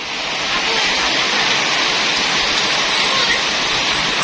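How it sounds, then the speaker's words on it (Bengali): Dense, heavy rain roars continuously with a windy hiss, loud and unbroken for the whole stretch. "যেমন বাতাস সেমন বৃষ্টি"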